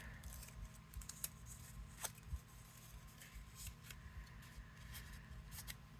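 Scissors snip through paper for handmade paper flowers cut from a 6x6 pad, each piece growing smaller; quiet, irregular crisp clips and rustles close by over a low steady background hum.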